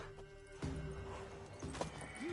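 Horse hooves in The Witcher 3: Wild Hunt clop in an uneven rhythm against a steady synthetic background hum, with a short whinny-like rise near the end.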